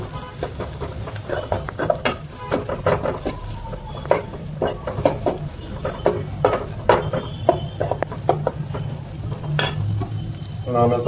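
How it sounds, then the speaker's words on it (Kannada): Onions frying in a pan with curry leaves for a paneer gravy, a steady close sizzle broken by frequent clicks and scrapes of a spatula stirring throughout. "ಈರುಳ್ಳಿ ಆ್ಯಡ್ ಮಾಡ್ಕೊಂಡು ಅದನ್ನು ನೀಟಾಗಿ ಒಂದು ಫ್ರೈ ಮಾಡ್ಕೊಳ್ಳೋಣ."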